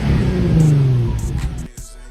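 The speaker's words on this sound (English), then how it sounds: "I'll show you guys what the exhaust sounds like as well" A car's exhaust, fitted with a 3-inch downpipe and catalytic converters, gives a deep throaty rev that swells and then falls away, with the engine note dropping off toward the end.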